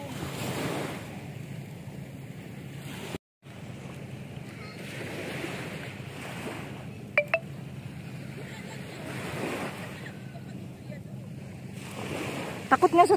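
Sea waves wash onto a sandy beach in steady, rolling swells that rise and fall every few seconds, with wind buffeting the microphone and faint voices in the background.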